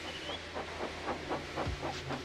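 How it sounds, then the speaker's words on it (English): Steam engine puffing away, a soft steady series of rhythmic chuffs about every quarter second over a low hiss, faint and close, without talk. "So they lit his fire, made lots of steam, and Edward puffed away."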